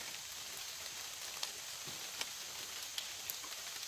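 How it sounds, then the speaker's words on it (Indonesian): Rain patters steadily in a Borneo forest as the downpour eases, a soft, even hiss with a few sharper drops landing close by. "Hujannya sudah mulai reda bro"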